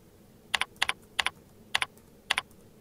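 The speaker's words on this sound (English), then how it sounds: "Type your reply in the body field." Keys on a computer keyboard are tapped in five quick double-clicks, close and fairly quiet, with short pauses between them.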